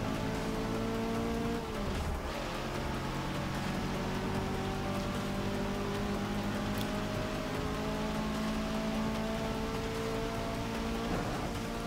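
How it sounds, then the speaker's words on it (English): Rain during a car race in Forza Motorsport 6, a continuous hiss of rainfall layered over the steady drone of racing engines, loud and unbroken throughout. "Heart-stopping stuff racing in the rain on this game"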